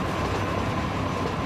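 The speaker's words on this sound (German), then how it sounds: "Endlich wieder eine Dampflok." A steam locomotive in the train game Train Fever rolls along in a continuous, dense rumble and rattle. It stays steady and fairly loud from start to end, with no voices.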